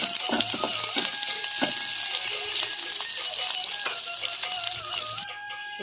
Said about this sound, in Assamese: এতিয়া মই অলপমান নিমখ দি ঢেকীয়া শাকখিনি ভাজি ল'ম।